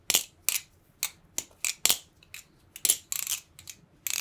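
Rapid metallic clicks and clacks from a titanium sandwich-construction BBbarfly BBSuperfly balisong knife being flipped, in quick irregular bursts, light and crisp, close by, with brief quiet gaps between the flips.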